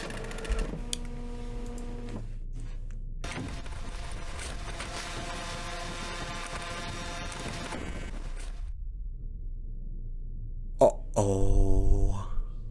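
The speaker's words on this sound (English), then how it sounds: "Great, the Killer Pro printer." A printer in a video game runs while printing a poem, a long mechanical whirring and buzzing passage with tonal grinding, then a short pause and a brief louder rattling burst near the end.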